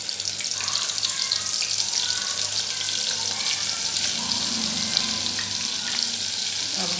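Onions frying in oil in a pot make a dense, steady sizzling hiss that stays loud and unbroken throughout, with no talking.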